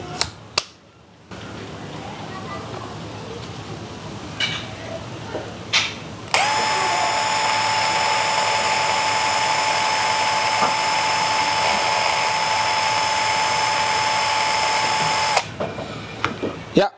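DCA ADPL02-8 12V cordless impact driver on a 2000 mAh battery, run freely for an RPM test: a steady high motor whine lasting about nine seconds, with handling clicks before and after.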